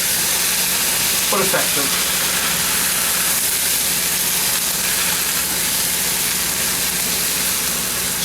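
Risotto sizzles steadily in a pan as about a cup of liquid is poured in, a constant loud frying hiss with bubbling, with a brief spoken remark over it.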